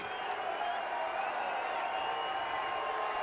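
Cardinals fans at a night baseball game against the Rockies rise to applaud Rick Ankiel, a steady distant wash of clapping and crowd murmur across the stadium.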